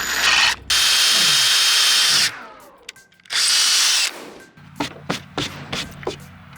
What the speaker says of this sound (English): once you're sunk into the wood a tiny bit, you can kind of redirect the angle and then get like your angular hole drilled in there.